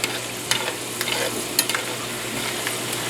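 Corn kernels parching in a hot pan while being stirred, with scattered sharp pops and cracks over a steady sizzling hiss, several distinct bursts spaced irregularly and close up.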